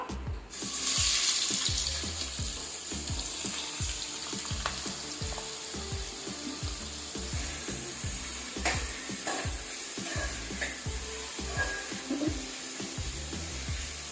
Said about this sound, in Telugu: ఆయిల్ అయితే హీట్ అయిపోయిందండి ఇప్పుడు మనం కట్ చేసి పెట్టుకున్నాం కదా ఉల్లిపాయ పచ్చిమిర్చిని కూడా వేసేసుకుంటున్నాను